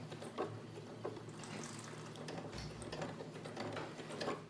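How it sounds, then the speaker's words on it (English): A sewing machine reverse-stitching while fastening ties onto a fabric mask: a steady mechanical whir with rapid needle clatter, close and moderately loud, running continuously with no voices. "I'm going to do another bit of back stitching"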